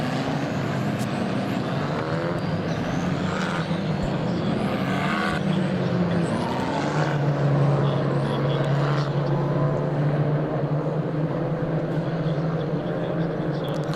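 British F4 single-seater racing cars circle Silverstone behind a safety car, engines droning steadily at a distance for the whole stretch while a commentator talks over them.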